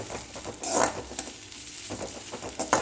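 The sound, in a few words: sautéing onions with curry leaves in a pan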